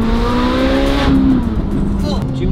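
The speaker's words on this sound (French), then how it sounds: "Là, c'est une voiture de course." A Ferrari race car accelerates close by, its engine note climbing loud and steadily before easing off, while voices talk over the roar.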